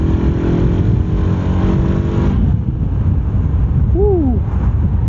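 A Honda CBR 500R motorcycle engine roars loud and close, its buzzing drone bouncing against the rev limiter before easing off, with wind rush and a brief whoop of a voice near the end.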